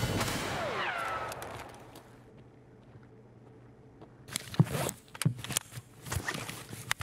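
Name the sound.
gunfire in a video game, Escape from Tarkov Labs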